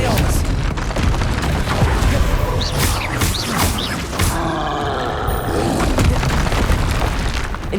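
Confringo spell blast in the game Hogwarts Legacy, a loud booming burst, with several more blasts and crackling impacts following in quick succession amid combat effects.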